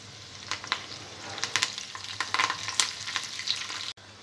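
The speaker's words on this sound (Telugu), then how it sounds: "తాలింపు కొద్దిగా ఫ్రై అయిన తర్వాత ఇందులో కరివేపాకు వేసుకోవాలి." Curry leaves hit hot oil already frying tempering seeds, garlic and dried red chillies, setting off close, lively crackling and spitting bursts that continue for a few seconds before cutting off abruptly.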